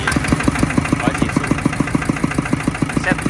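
A 14 hp Kubota ZT140 diesel engine on a well-drilling rig chugs steadily at idle, with an even, rapid thumping rhythm throughout, close and fairly loud.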